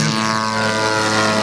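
A model jet aircraft flies at a club fun-fly airshow for scale jets and warbirds, its engine a steady, loud, continuous drone with no breaks and no voices.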